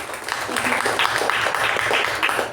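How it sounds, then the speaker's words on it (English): A short burst of steady clapping from people gathered at a club meeting, moderately loud and continuous with no voices standing out. "Please give a huge round of applause to us."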